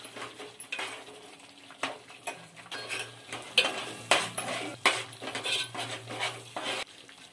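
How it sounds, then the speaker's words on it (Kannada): Masala frying in a pan for a soya chunks gravy, stirred with a metal spoon that scrapes and clanks against the pan in uneven bursts over a quieter sizzle, close and with no one speaking. "ಈಗ ನೀಟಾಗಿ ಮಸಾಲೆ ಫ್ರೈ ಮಾಡಿಕೊಂಡು"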